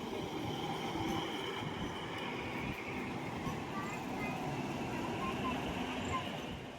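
A train rolls steadily through a station without stopping, a continuous close rumble of wheels and carriages with faint squeals throughout.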